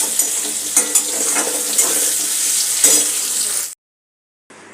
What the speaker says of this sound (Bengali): শুকনো লঙ্কাটা পুড়িয়ে দেবো, ওই জন্য এখন দিলাম।